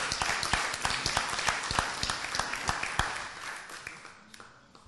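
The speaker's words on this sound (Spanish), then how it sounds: "denle un aplauso" A church congregation claps, loud and lively at first with sharp individual claps standing out, then thinning and fading toward the end.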